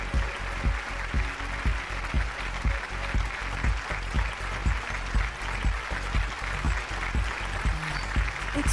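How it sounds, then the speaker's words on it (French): Applause from the audience at a launch event for a new body make-up line, a steady wash of clapping with a regular pulsing thump beneath it, continuous throughout at moderate loudness. "Applaudissez bien fort."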